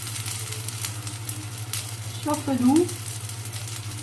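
Batbout dough cooks gently in a little oil in a frying pan over low heat, giving a soft steady sizzle with a low background hum, and a brief word spoken over it.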